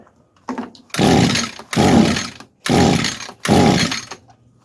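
A 22-year-old ECHO string trimmer, long unused and with a suspect carburetor, sputters to life in four loud, rough bursts of about a second each, dying out between attempts.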